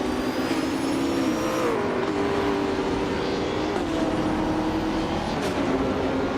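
A 1994 Mercedes C 180 DTM race car engine in a racing video game drones steadily and loudly at sustained high revs, its pitch dipping and shifting through gear changes, with other cars faintly passing by.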